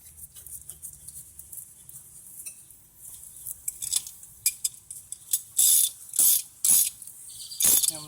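A ratchet tightens the front brake bolts on a 2012 Ford Focus, starting with quiet, quick clicking and building into several loud, close bursts of rasping clicks separated by short pauses.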